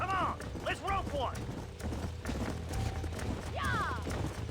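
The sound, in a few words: horses running in the video game Red Dead Redemption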